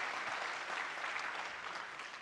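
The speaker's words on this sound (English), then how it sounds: "Please give them all a round of applause." Dense audience applause at a panel event on water conservation, a steady wash of many hands clapping for a couple of seconds with no speech.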